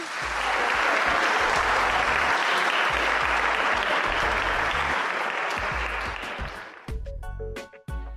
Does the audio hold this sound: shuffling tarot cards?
no